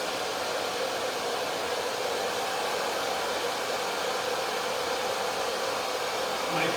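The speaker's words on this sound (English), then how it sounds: "I'm not going to dry it too much. I'm just going to take some moisture out of it." A hair dryer runs steadily on high pressure and medium heat while drying curly, layered long hair after a cut, giving a continuous close, even rushing blow with no pauses.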